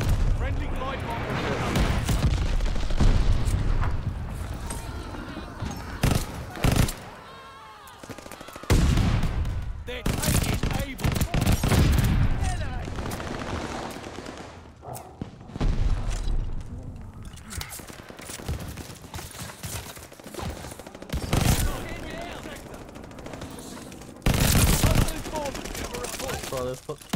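Heavy gunfire in a Call of Duty-style shooter, played with an ITRA Burst class and a called-in V-2 rocket: repeated bursts and booming blasts, loud and near, broken by short pauses, with a player talking over parts of it.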